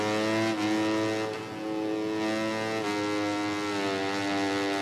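Engine braking on a motorbike in MotoGP 20: a steady, loud, buzzing engine drone that drops and shifts pitch after a gear change, running without pause near the rider.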